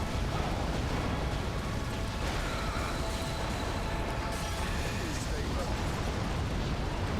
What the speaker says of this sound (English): Let's go for some mortar action.